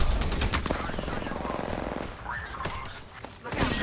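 Video game gunfire on an Xbox Series X during an open-lobby squad match: rapid automatic bursts rattle continuously at moderate distance, with a few sharper shots near the end.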